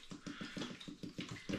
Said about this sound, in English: I'm going to top the pans up with spring water